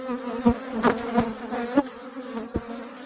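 Honey bees buzz close by at an open beehive, a soft steady drone broken by several brief louder passes as individual bees fly near, with no voices.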